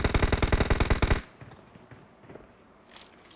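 Rapid automatic gunfire bursts loudly in the mobile battle royale game BGMI, a fast rhythmic spray lasting about a second, followed by fainter scattered shots and distant game noise.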